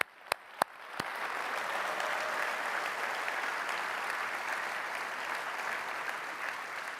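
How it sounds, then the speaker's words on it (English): A conference audience applauds certified users, with a few sharp claps at the start before the clapping swells into sustained, dense applause that holds steady throughout. "big round of applause"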